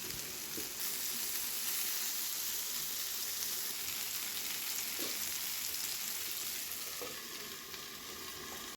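Tandoori chicken sizzling in a pan, a loud continuous fry hiss with a few soft knocks from stirring, steady throughout with no voices.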